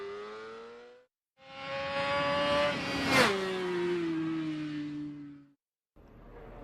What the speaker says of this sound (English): Turn and keep the acceleration for the fast part of the track.